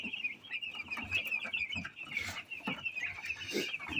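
Five-day-old broiler chickens cluck and peep steadily in a crowded pen, a continuous chorus of close, high chirps with no talk.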